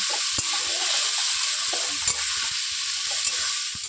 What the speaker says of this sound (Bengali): দেব হলুদ, লবণ, জিরে, ধনের গুঁড়ি। এবার ভালোভাবে কষিয়ে নিতে হবে।